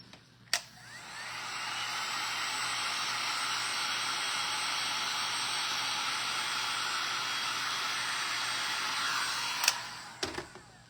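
A hair dryer runs steadily for about nine seconds, drying paint on a double-sided gingerbread trivet, with sharp clicks as it switches on and off and a couple of knocks at the end.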